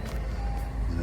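An Acura car engine running steadily just after starting, a low continuous hum with a faint tone above it, close and fairly loud, with no talk over it.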